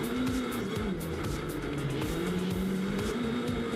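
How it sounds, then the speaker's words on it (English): Rallycross cars launch at Silverstone, engines roaring continuously with shifting revs, heard loud but muffled from indoors as a steady drone. "we definitely can't hear him now because the cars are doing their launches outside"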